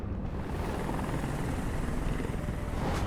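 A helicopter in the game Detroit: Become Human hovers close overhead, its loud, steady rotor roar filling a few seconds without letup.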